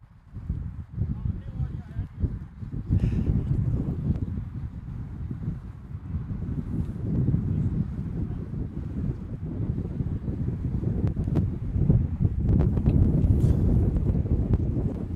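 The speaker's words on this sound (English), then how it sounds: "the wind has picked up here at Danville Park" Steady, blustery wind buffets the microphone throughout at an outdoor cricket match at Danville Park, a constant roaring rush with gusts that swell louder toward the end.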